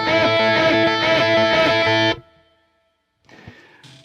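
Distorted electric guitar plays a moveable rock lick in fast triplets, three to a bar, loud and dense for about two seconds, then cuts off into near silence before a faint, thin tail of notes returns.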